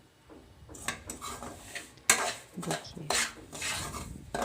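Semolina is stirred and scraped in a kadhai with a spoon for a gunjya filling, giving irregular metallic clinks and scraping rubs, with a sharp clank partway through and a brief spoken word at the start.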